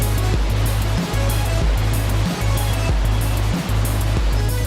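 The roaring water of Niagara Falls on a winter day pours as a dense, constant rumble, loud and steady, with no voices over it.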